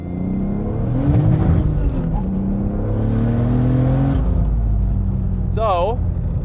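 A 675 HP turbocharged E36 BMW M3 accelerates hard in second gear, its engine droning loudly and rising in pitch from inside the car, ending with a short squealing burst.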